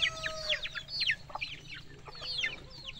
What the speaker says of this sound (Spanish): Eso sin contar las gallinas que han subido para el palo ya.